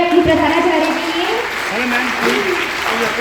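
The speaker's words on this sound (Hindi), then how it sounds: "एक बार जोरदार तालियां हो जाए अपनी प्रधानाचार्य के लिए" Loud applause from a crowd of schoolchildren for their principal at a school gathering, continuous clapping filling the room while an adult voice keeps speaking over it.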